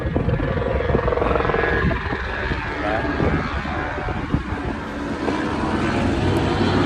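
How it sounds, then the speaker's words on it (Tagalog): A tour helicopter flying over Skagway, Alaska, heard from a cruise ship's rooftop deck as a loud continuous rotor and engine roar that dominates throughout, with faint voices around it. "Tapos ayun yung mga helicopter tour,"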